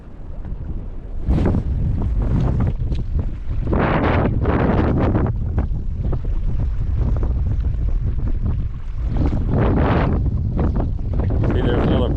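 Heavy gusts of wind buffet the microphone during inshore fishing around coastal lagoons, with loud, uneven bursts of rumbling noise that rise and fall nearly the whole time, and no clear talk.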